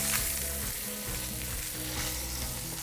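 Pot roast sears loudly in a hot pan after being flipped, a steady dense sizzle that carries through the whole stretch without pause, close and full, with no voices over it.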